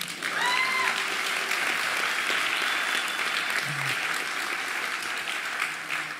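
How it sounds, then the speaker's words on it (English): Audience applause at a college graduation ceremony, steady dense clapping filling the hall throughout, with faint voices and a brief whoop or call rising above it near the start. "well, you can clap for them now."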